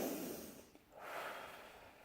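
A deep breath drawn in slowly through the nose, then a short pause and a second airy inhale, close and soft with no talking.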